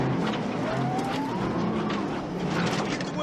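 Stuck off-road vehicle rocking forward and back with its wheels spinning, a steady loud engine drone and tire whine sustained throughout with a rising squeal partway through.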